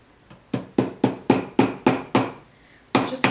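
A knurled-face hammer taps pegs into a boot in about nine sharp, close, evenly spaced strikes, with a short pause before the last two, and no voices.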